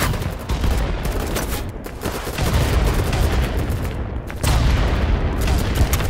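Sustained machine gun fire in a free-to-play video game shooter, a dense continuous rattle of shots with brief pauses, loud and up close, with voices talking faintly underneath.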